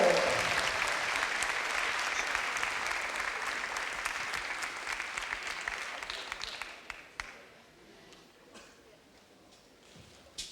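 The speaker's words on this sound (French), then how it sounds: "Allez, applaudissements s'il vous plaît pour Lorraine Baumann, Charlotte Gancy, Flavie Va" An audience at a women's doubles badminton final claps loudly at first, the applause thinning and fading to scattered claps over about ten seconds.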